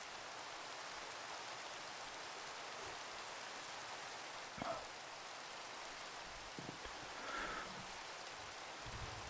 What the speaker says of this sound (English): Let me go turn off this rain.